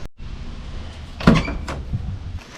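The driver's side door of a 1952 Willys pickup swings shut and its rebuilt latch catches the striker plate with a solid metallic clunk, close up, followed by a brief rattle.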